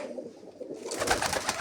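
Domestic pigeons being kept and sold by a breeder, a soft cooing heard close by, blended with the low murmur of the birds' enclosure.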